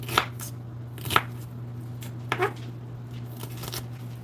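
Knife chopping pork on a cutting board, three or four sharp, spaced thuds over a faint steady background hum.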